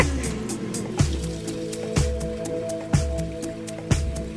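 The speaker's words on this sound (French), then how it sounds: "on va vider l'eau usée et on va re-remplir l'eau propre" Waste water drains from a road trip vehicle's tank with a steady splashing gurgle, broken by regular squishy pulses about once a second, close and fairly loud.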